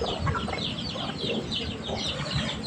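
Several breeding hens cluck steadily at moderate loudness, with overlapping soft calls forming a continuous farmyard murmur.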